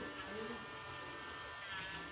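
Dremel rotary tool buzzing steadily as it trims the edges of baked polymer clay earrings, a close, continuous high whine with no talking.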